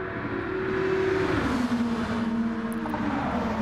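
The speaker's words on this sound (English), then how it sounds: "Austin is back in the conversation here, and he has the slipstream down Conrod Straight." Touring race cars in a sim racing game at Bathurst, running in slipstream down Conrod Straight: a loud, steady engine whine that shifts pitch partway through, with no voices.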